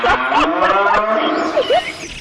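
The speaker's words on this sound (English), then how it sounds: "It's a cow. That's a cow." A cow moos over about two seconds, loud and close, with several drawn-out lowing calls that rise and bend in pitch, played alone without talk.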